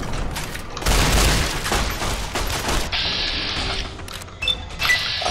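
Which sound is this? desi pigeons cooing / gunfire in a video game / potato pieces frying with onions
gunfire in a video game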